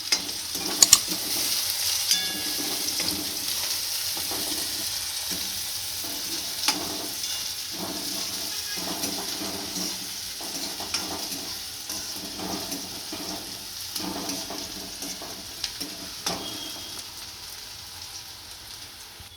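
A bowl of chopped green onions sautés in hot oil, sending up a steady, close sizzle with occasional stirring scrapes and small pops, and no voices.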